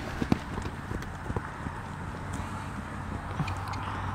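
A ridden horse's hooves clip-clop in an irregular rhythm at moderate distance, fairly soft against a steady background hum.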